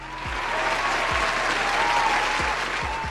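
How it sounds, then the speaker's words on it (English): Dense, loud applause from an audience on a podcast, sustained evenly throughout with a faint voice beneath it. "Give me a round of applause."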